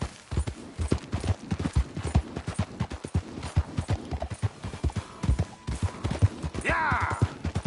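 Horse hooves gallop in Red Dead Redemption 2, a rapid rhythmic clip-clop that stays steady and close throughout, with a brief whinny near the end.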